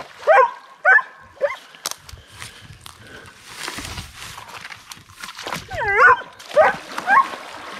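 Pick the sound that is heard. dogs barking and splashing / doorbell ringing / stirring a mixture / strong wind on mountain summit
dogs barking and splashing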